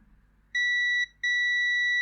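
A multimeter sounds its continuity beep while probing a chip leg on a SEGA Mega Drive 2 circuit board. It gives a clear, steady electronic tone, then briefly breaks off and returns as a sustained beep.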